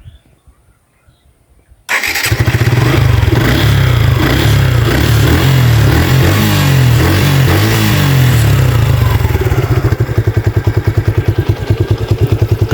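A 2024 Suzuki Gixxer Monotone motorcycle engine starts after about two seconds of near silence, then settles into a loud, steady idle with a low, even throb close by.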